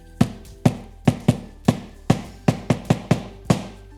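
Homemade junk drum built from a bicycle wheel, still incomplete with gaps, struck in a loose rhythm of about ten sharp, ringing hits over four seconds, each with a quick decay, close and clear.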